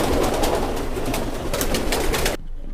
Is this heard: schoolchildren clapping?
no